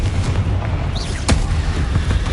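Confringo blasting spell going off in the Hogwarts Legacy video game: one sharp, loud blast rises out of a steady rumbling, crackling game background. A second, softer burst comes shortly before it.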